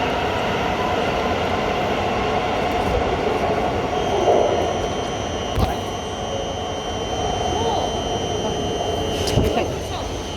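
Thameslink service to Brighton at the low-level platforms of London St Pancras International, a steady rumbling train noise with a few brief louder knocks, heard close and continuous while people talk nearby.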